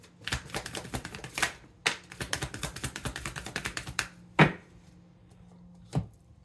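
Fast riffling clicks of tarot cards being shuffled, in two long runs, then a few single sharp taps.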